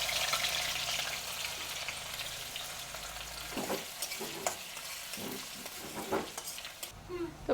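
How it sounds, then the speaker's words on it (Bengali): Chopped onions sizzling in mustard oil in a wok, a bright steady crackle that gives way to scraping stirs and soft thuds of a spatula against the pan, close and without speech. "এবার দিয়ে দেবো আমি পেঁয়াজ কুচি,"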